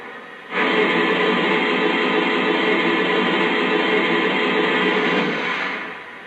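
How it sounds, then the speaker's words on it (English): A steady hiss of cylinder steam from a Lionel model N&W 4-8-4 J-Class #611 locomotive starts abruptly, holds for about five seconds, then fades out. "Here's the cylinder steam sound."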